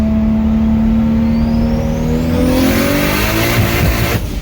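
A 2JZ-swapped Nissan Silvia S14 accelerating hard in third gear while racing, its engine note loud and close, rising steadily in pitch with a whining turbo tone layered over it and no talking.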